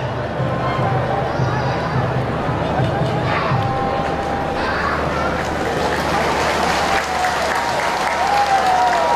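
Steady crowd applause fills a football stadium as fans cheer the U23 Vietnam attacking players in the starting lineup, with dense continuous clapping and crowd noise throughout and commentary running over it.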